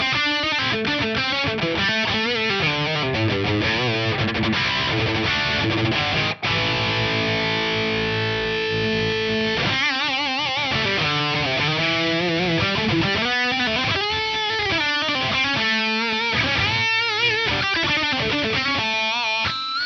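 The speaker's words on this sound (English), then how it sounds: "there is the drive control, which is meant to emulate power tube distortion" Electric guitar through a Sansamp PSA-1 preamp with the drive set to emulate power tube distortion plays loud, heavily overdriven riffs and chords, with one long sustained chord in the middle.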